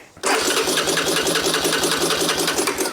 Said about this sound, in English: The starter sounds great.